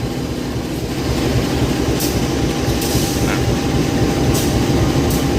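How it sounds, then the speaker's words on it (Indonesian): Blambangan Express train shunting slowly through a station, a steady low rumble of rolling stock with faint wheel clatter and occasional high metallic squeals, continuous and fairly close. "Nah, ini langsiran KA Belambangan Express."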